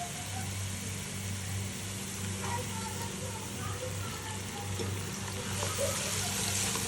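Spices, ginger and garlic fry in a pan with a soft, steady sizzle under a low mechanical hum, gentle and continuous from start to finish.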